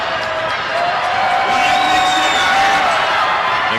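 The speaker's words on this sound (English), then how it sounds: "The crowd gets loud for his attempt." A college men's basketball crowd in an arena, Flagler against Georgia College, swells into a loud, steady roar with scattered cheers and whoops during a free throw attempt.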